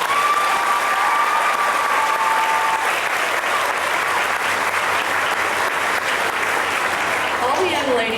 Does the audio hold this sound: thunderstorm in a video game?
no